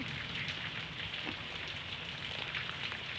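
Steady, continuous rain that has been falling for days pours down in an even, dense hiss at moderate distance, unbroken and free of speech.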